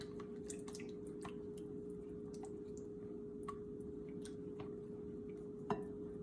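Baking powder is mixed into pie batter in a bowl, with faint, soft clicks and wet squishes from the utensil at an irregular pace over a steady low background hum.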